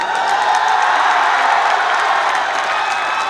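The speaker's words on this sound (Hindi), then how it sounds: "आप लोगों की तालियों ने बता दिया कि मैं क्या कहना चाह रहा था" Steady, dense applause from an audience for a poet at the Kalam Academy's Phag 2022 event, a continuous close wash of many hands clapping at even loudness with no pauses.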